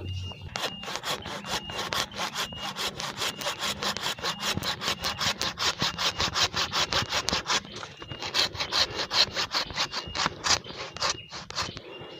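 Steady back-and-forth strokes of a hand saw biting through the wood of a banyan bonsai, a fast regular rhythm, close and loud, pausing briefly before resuming.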